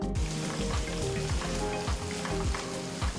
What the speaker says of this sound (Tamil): ஸ்டோவை லோ ஃப்ளேம்லேயே வச்சு வெங்காயத்தை 1 நிமிஷம் வதங்கினா போதும்.